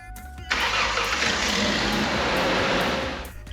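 A Ford Ranger pickup engine cranks and catches after a short pause, then runs as a loud, steady, close roar that holds for about three seconds before easing slightly.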